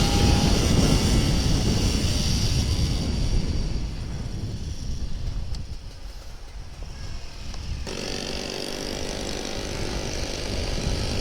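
A Kawasaki Ninja RR 150 two-stroke motorcycle engine revs hard and accelerates on a touring ride, a loud continuous buzzing roar with wind rush that dips briefly mid-way before surging again.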